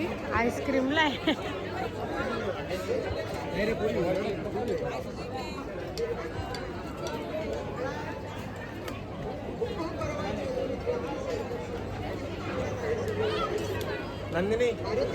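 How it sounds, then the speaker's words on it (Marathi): A dense crowd chatters around an ice cream stall at a carnival festival, a continuous overlapping babble of many voices filling the space at a steady, busy level. "कशाला गर्दी एवढी आईस्क्रीमला आहे"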